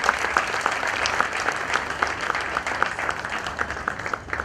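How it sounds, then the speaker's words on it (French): A large crowd claps warmly after a first lady's speech at an awards ceremony in the DRC, sustained dense applause at a steady level with individual claps standing out throughout. "un tonnerre d'applaudissements pour ce discours de la distinguée première dame"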